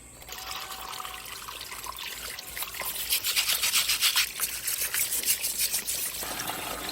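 Water trickles and splashes from a small homemade natural-stone fountain with a waterfall basin, a steady close dribble that grows louder and more splashy partway through, with no voices.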